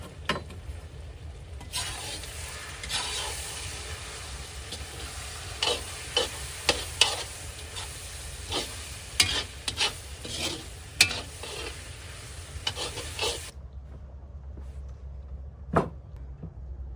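Plov is stirred in a kazan, the utensil scraping and clacking against the pot's metal sides over a steady hiss of frying, with irregular knocks; the sizzle drops away near the end, leaving a lone late clank.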